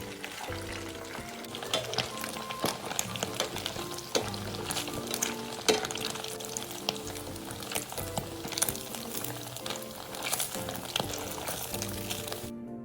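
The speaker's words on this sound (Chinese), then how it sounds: "以相同的步骤，将剩余的豆腐油炸至全部完成。" Otar-otar tofu pieces deep-frying in hot oil, a dense, continuous bubbling sizzle with scattered crackles and pops. Utensils clink and stir now and then, and nobody speaks.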